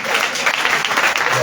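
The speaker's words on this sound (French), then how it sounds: "C'est mon frère qui acclame." A church congregation at a healing service claps, with dense, steady applause throughout and voices mixed into the crowd noise.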